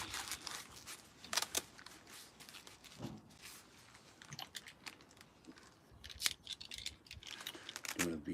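A cigar gets a V cut, with several sharp close snips and crunchy clicks spaced irregularly over a quiet room, alongside faint handling noise.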